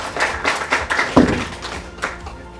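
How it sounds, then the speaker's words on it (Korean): Scattered clapping from an audience welcoming the moderator at a Yangju City Council 30th-anniversary debate forum, a few irregular claps over about two seconds, moderately close and fading near the end. "큰 박수로 환영해 주시기 바랍니다"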